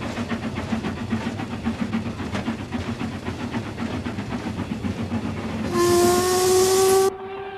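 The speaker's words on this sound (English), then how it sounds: "There's a train going over at the moment," Steam train crossing a concrete viaduct, its chuffing and rolling rumble loud and steady, then a long, piercing steam whistle blast near the end before cutting off.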